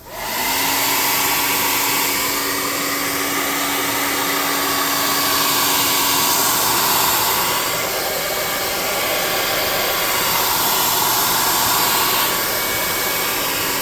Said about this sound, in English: Let's get the hot air gun.